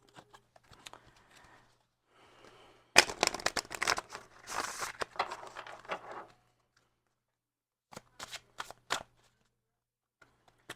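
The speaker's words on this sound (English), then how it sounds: "let's pull an oracle card too" Oracle cards being shuffled by hand, with soft scattered riffles and taps early on, then a burst of dense rapid card shuffling and sliding near the middle, and a few more sharp flicks toward the end.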